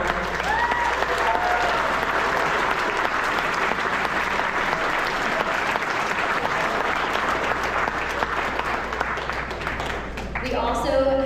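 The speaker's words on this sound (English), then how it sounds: "So a big round of applause for O&R." Sustained applause from a large crowd at a RoboSub 2025 orientation, dense clapping at an even level that swells slightly at the end, with a few faint voices mixed in.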